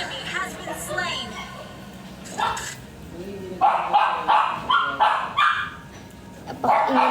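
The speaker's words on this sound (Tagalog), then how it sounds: "Napaka-ingay ng aso ko." Pet dog barking indoors in a series of sharp barks over a mobile game's sound effects and announcer calls, with a person talking.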